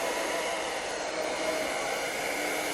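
A hair dryer blows steadily on fresh pink paint on a vintage picnic basket lid, giving a loud, even, close whooshing drone.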